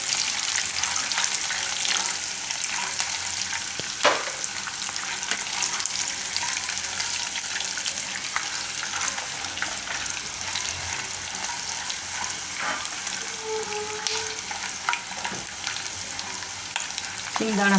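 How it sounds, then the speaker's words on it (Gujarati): Peanuts frying in hot oil, a steady, dense sizzle with occasional stirring clicks running continuously and close throughout, no voice. "હવે એમાં આપણે નાખી દેવું આ સિંગદાણા. તેલમાં શેકાઈ જાય."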